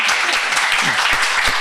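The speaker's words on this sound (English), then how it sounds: "This applauding, where does it come from?" Audience applause breaking out after a devotional talk, a dense steady wash of many hands clapping that stays loud and even for its full length, with no voices over it.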